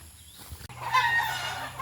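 Hens clucking softly nearby, a few scattered calls over a steady low hum.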